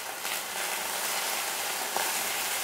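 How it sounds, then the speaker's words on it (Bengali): Ginger garlic paste sizzles and fries steadily in a hot pan for a fish kalia, with a constant broad hiss and faint scraping as it is stirred; no voices. "আদা রসুনের কাঁচা গন্ধ চলে যাওয়া অবধি আমি নাড়াচাড়া করব"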